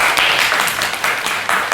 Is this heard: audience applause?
yes